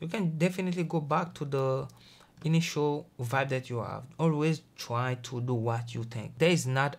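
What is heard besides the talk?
No distinct noise like a dog, phone or traffic.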